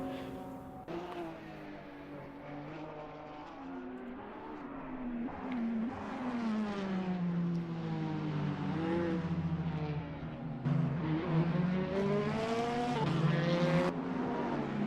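A BMW and a Porsche race car battling on track in an NLS endurance round, engines whining and rising through the gears, loud and close, climbing in pitch with a few sharp changes.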